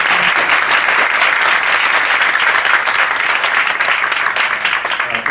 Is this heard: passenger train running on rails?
no